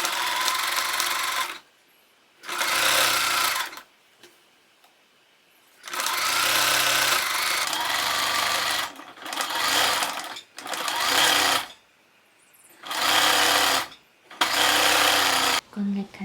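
Sewing machine stitching lace onto a fabric bag, loud and close, running in several bursts of one to three seconds separated by quiet gaps.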